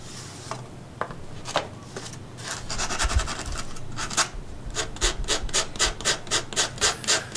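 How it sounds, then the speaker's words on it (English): Sandpaper rubbing away small bumps on the inside of a Skyhunter FPV plane foam fuselage, a close, steady rasping that turns into a regular series of quick back-and-forth strokes, with no talking. "I'm sanding off the little bumps that are on the inside of the fuselage."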